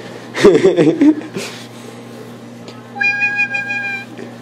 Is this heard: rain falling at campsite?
no